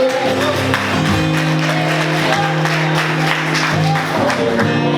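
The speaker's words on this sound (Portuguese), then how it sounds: "Aplauda o Senhor bem forte." A congregation applauds during a church service, sustained clapping from the crowd over steady sustained tones, probably music, running the full few seconds.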